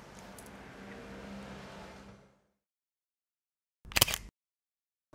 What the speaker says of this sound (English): I've always liked the M10 shutter.